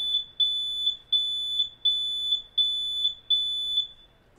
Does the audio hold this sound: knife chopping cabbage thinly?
no